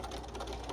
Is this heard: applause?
no